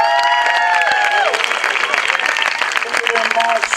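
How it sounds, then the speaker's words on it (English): Festival crowd applauding Afro dancers, dense clapping filling the whole stretch at steady loudness, with a voice speaking over the start and some cheering mixed in. "Both Afro dancers, a big applause for them again."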